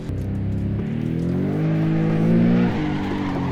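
A car drifting in the racing game Assetto Corsa, its engine droning and climbing in pitch with a faint tyre squeal, loud and continuous with no talk.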